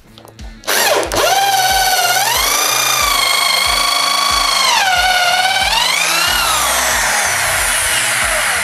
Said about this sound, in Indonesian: kita menggunakan bor ID500 untuk yang besar